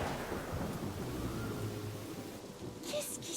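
Thunder rumbles with steady rain in an animated cartoon, a continuous loud downpour and low rolling thunder filling the whole stretch, with a brighter crackle near the end.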